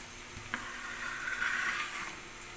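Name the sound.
corn added to frying pan, sizzling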